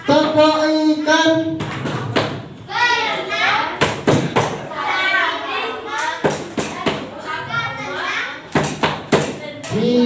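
Indonesian classroom 'tepuk ikan' (fish clap) routine: children chant in unison with sharp rhythmic hand claps landing in short bursts, voices close and loud with a teacher speaking between.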